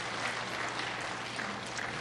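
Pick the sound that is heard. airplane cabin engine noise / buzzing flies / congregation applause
congregation applause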